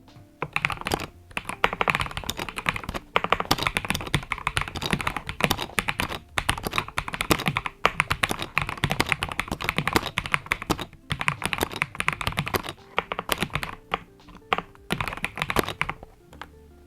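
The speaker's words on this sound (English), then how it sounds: "here is the typing and sound test of the GK104 Pro." Steady, rapid clacking of keys on a Skyloong GK104 Pro mechanical keyboard, close and continuous with brief pauses, no voices.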